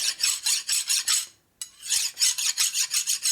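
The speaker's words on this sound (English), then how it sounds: "we're going to use a file on this one." Rhythmic rasping strokes of a metal file on a Harley shovelhead big-bore engine part, about a dozen quick back-and-forth passes with a short pause midway, close and fairly loud.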